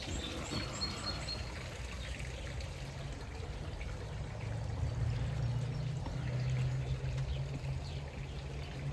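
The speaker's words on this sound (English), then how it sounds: "So let's put our chlorine in." Liquid chlorine being poured into a swimming pool, a steady, close splashing trickle into water that grows fuller partway through, with faint birdsong in the background.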